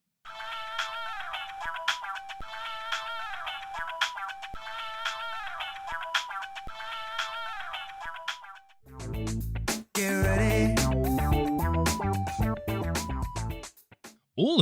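A funk track from GTA IV: a steady looping melodic section for about nine seconds, then a fuller, louder band passage with deep bass and punchy drums, heard alone.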